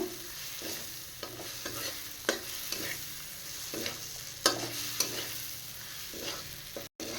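Potatoes and spices fry in a pan for a lentil-dumpling (bori) curry, with a steady sizzle under repeated scraping stirs that give a loose, rhythmic clatter of spatula on pan. No one speaks.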